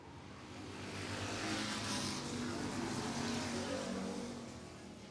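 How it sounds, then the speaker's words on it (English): Stock cars thunder down the back straightaway at Barrie Speedway, a dense, steady roar of several engines swelling in over the first second and holding loud and close throughout. "as we thunder down the back straightaway for the first time"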